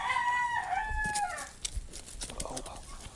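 An Asil rooster crows loudly up close, followed by scattered clucks and rustling, with a person speaking over part of it.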